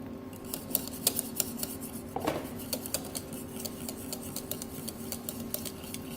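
Whisking custard cream in a saucepan for a Saint-honoré: a steady, quick metallic ticking of the whisk against the pan, fairly close and clear, with no talk over it.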